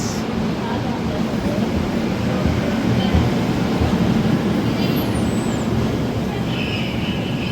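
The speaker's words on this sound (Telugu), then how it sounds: "bye bye Duronto express" Duronto Express train passing through a station: a loud, steady rail rumble fills the whole stretch without letting up.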